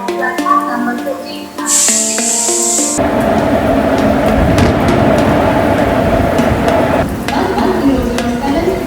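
Inside a passenger carriage of the Mandovi Express between Mumbai and Goa, a dense, steady rumble and hiss of the moving train fills the space, with brief clicks and a short high burst near the start.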